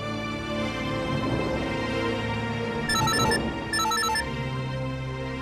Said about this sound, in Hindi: मैं दिशा को फोन करता हूँ।